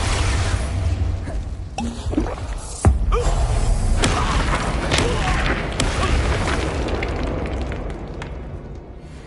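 Expulso spell explosions in a video game: a sharp booming blast, followed by rumbling mechanical debris and smaller bursts, with a voice calling out spell names.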